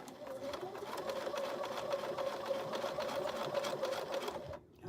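A sewing machine stitches over webbing on a neck pillow, its close, fast mechanical rattle running steadily for several seconds before it stops.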